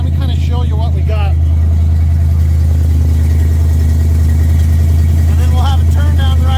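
A 1976 Chevy C10 Suburban's 454 engine through a Flowmaster exhaust, giving a loud, steady, deep rumble that fills the whole stretch while people talk over it.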